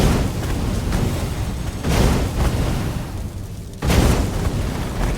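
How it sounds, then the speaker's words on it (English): A cannon trap in a video game fires with deep booming blasts, two heavy loud bursts roughly two seconds apart over a rumbling background. "A cannon trap."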